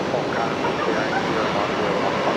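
An Air New Zealand jet moving at Brisbane Airport at night, a steady, dense engine roar with broadband rush that stays loud and constant throughout, with no voices over it.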